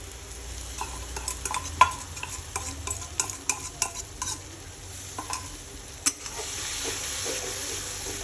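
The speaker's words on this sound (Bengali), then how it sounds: "তো এটাকে মোটামুটি আমি একটু ভালো মতো কষিয়ে নেবো মশলাটাকে।" A spice mixture for Bengali-style chicken sizzles steadily in a pan while being stirred, with scattered scraping clicks of the spatula over a continuous frying hiss, close and moderately loud with no talking.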